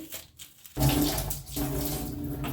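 Tap water suddenly starts running and keeps streaming steadily into a bottle, a close, continuous hiss with a faint rising tone.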